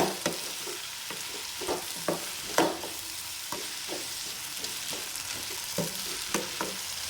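Okra and tomato sauté in a pan for sambar, with a soft continuous sizzle broken by repeated spoon-scraping and stirring knocks at an irregular rhythm, close by and without talk.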